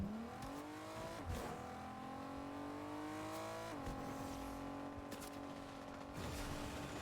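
A car in Fortnite drives at speed with a steady, droning engine hum that rises and shifts in pitch as it accelerates and changes gear, continuous and close throughout.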